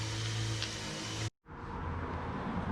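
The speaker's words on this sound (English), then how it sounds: "So here's the wheel bearing that we're gonna remove. You can hear it sounds horrible." A worn front wheel bearing on a 2013 BMW 328i gives a steady, rough rumbling drone that cuts out abruptly for a moment, then returns at the same level.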